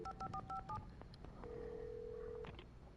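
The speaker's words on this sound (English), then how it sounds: "Phone." A telephone is dialed in the Alan Wake video game: a quick run of five or six crisp keypad tones, followed by a soft steady ringing tone lasting about a second, all faint and quiet.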